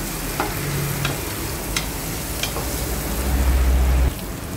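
Onion and garlic sauté in a hot pan, giving a continuous sizzling crackle, while a spoon scrapes and stirs with several sharp clinks against the metal and a low rumble near the end.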